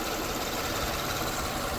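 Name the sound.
Lexus ES330 engine idling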